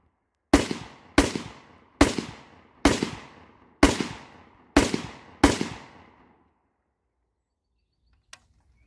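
Seven evenly spaced, sharp rifle shots in a video game, each crisp crack followed by a short decaying echo, then silence with one faint click near the end.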